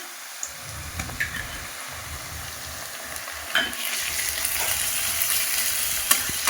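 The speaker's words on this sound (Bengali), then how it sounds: "রসুনটাকে ভালো করে নেড়ে নেবো যাতে না কাঁচা গন্ধটা রসুনের থাকে। রসুন ভাজা ভাজা হয়ে গেছে" Garlic fries with browned onions in a pan for a village-style mutton curry with potatoes, a close crackling sizzle broken by repeated spatula stirs and scrapes that get louder midway.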